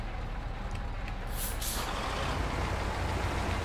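A hiss of truck air brakes as a trailer is detached in the video game SnowRunner: a short sharp release over a steady, low engine rumble.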